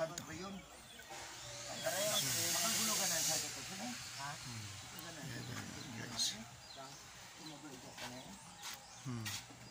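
Air hisses sharply from a leak during a leak test at Basiao Fishing Port, a strong burst followed by short, fainter hisses, with someone talking over it.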